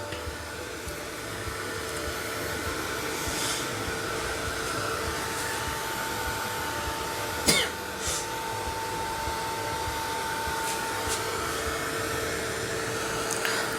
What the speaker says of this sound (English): I'll use my heat gun to dry this up.